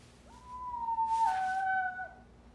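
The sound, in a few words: wolf calling, cartoon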